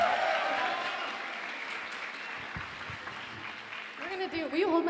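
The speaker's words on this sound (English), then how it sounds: "One more round of applause for Kyle." An audience at a CreativeMornings New York event applauds a speaker in steady, dense clapping that fills the room, with a voice speaking over it toward the end.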